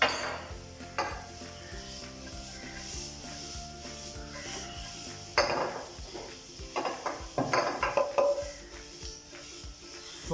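Shredded carrot and finely chopped cabbage sautéed in a pan, with a steady sizzle and hiss, clinks of a utensil stirring against the pan, and louder scraping bursts midway and toward the end, with no talking.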